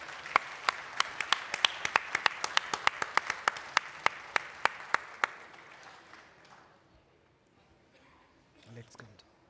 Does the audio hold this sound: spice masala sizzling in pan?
no